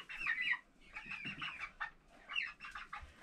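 A chicken clucks in short, uneven bursts, fairly close and soft, with brief pauses between the calls.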